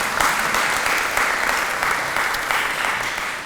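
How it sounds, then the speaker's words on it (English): A lunch-talk audience gives a round of applause for a newborn grandson. Loud, close, even clapping from many hands runs steadily for a few seconds before starting to taper. "a round of applause for a newborn grandson among them"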